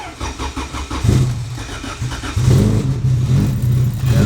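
A turbocharged Honda Civic on a dyno cranks and fires up, the starter churning briefly before the engine catches into a loud, steady running note with small throttle rises, close and without talk.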